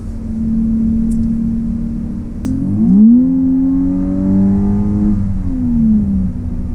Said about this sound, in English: that was me flooring it